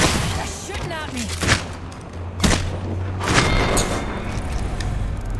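Gunfire in a video game: several sharp shots and booming reports arrive in irregular bursts, some close and loud, over steady background noise, with someone speaking between them.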